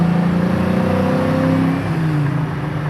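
An LS-swapped 1968 Chevy Camaro restomod cruising down the road: a loud, steady engine drone and road roar heard from inside the car, easing slightly toward the end.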